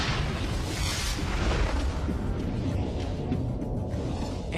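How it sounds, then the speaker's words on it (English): A huge cinematic explosion from a documentary about the end of planet Earth, a dense continuous roaring rumble with a whooshing surge early on, loud and sustained throughout. "the sheer terrible beauty of a really dramatic explosion from the inside"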